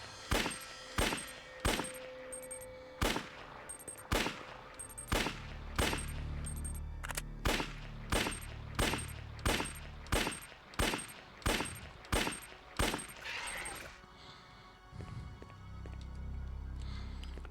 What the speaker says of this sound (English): That is the most stock-sounding handgun shot I've ever heard.